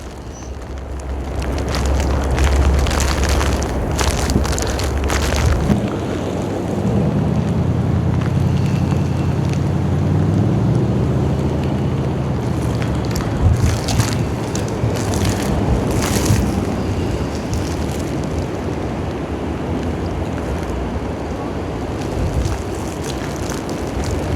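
Strong wind during heavy snowfall in Toronto buffets an unshielded microphone, producing a continuous loud roaring rush with low gusty thumps and surges and no voices.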